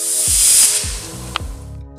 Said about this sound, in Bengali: গ্যাসটা অফ করার পর কিছুক্ষণ বাদে প্রেসার কুকার থেকে প্রেসারটা বেরিয়ে গেলে ঢাকাটা খুলে নিতে হবে